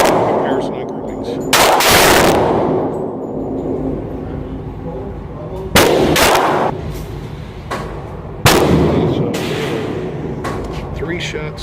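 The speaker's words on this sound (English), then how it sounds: "Three shots through the SLR 104." Three loud rifle shots from an SLR 104 ring out at a range, spaced a few seconds apart, each a sharp blast with a long rolling echo trailing behind.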